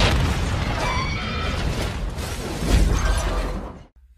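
A bomb detonates in an action film, a loud, dense blast with rumbling debris and crackle that fills the whole stretch, swelling once more near the end before cutting off abruptly into silence.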